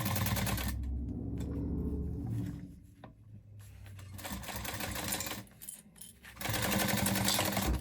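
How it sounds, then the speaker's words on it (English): Sewing machine running in bursts as it stitches a fabric lining at a quarter-inch seam allowance for a crossbody bag, loud and close with brief pauses between runs. "Stitch these together at a 1/4 inch seam allowance."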